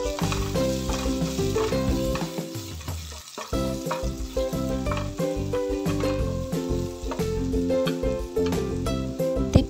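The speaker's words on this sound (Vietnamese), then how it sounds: "Phần còn lại thì mình cho ớt băm vào xào chung." Continuous loud sizzling and hissing of garlic and minced chili stir-frying in a hot pan, steady throughout with occasional clinks, no voices.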